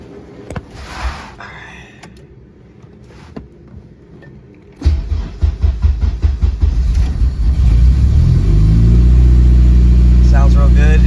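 A Honda Civic EK with a swapped K24 engine: a few quiet clicks, then the engine cranks and catches, revving in uneven pulses before settling into a loud, steady run close by.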